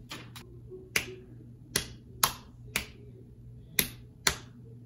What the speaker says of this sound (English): We're gonna clap them out and just get used to the timing of quarter and eighth notes.